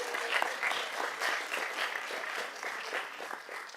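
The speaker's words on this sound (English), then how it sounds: "if you can give some light applause as they come up so that it's not completely silent" Light applause rises from the audience at a school board meeting, a steady patter of scattered clapping that holds evenly throughout and stays fairly soft.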